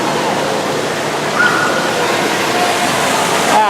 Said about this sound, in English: There's a nice little waterfall.